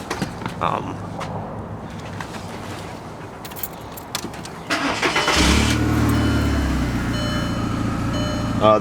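A 2005 Volkswagen Jetta GLS: keys jingle and rattle in the ignition, then the engine cranks and catches, settling into a steady, loud idle heard from inside the car.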